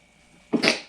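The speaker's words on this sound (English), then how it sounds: "Sorry, I stifled a sneeze there." A single stifled sneeze, muffled and brief, bursting out close to the microphone after a quiet moment, with no one talking.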